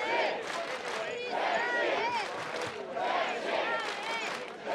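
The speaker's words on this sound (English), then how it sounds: "And listen to the crowd now going absolutely crazy for the Czech Republic." Large crowd at a Battle of the Nations medieval combat tournament roaring and chanting for the Czech team in loud rising and falling waves, with a commentator's voice over it.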